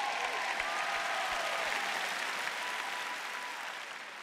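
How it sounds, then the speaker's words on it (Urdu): A large audience claps steadily at a sermon event, a dense, continuous wash of applause that holds at an even level and then tapers slightly toward the end. "جی آپ اس سے بھی زیادہ بلند آواز میں تالیاں بجا سکتے ہیں"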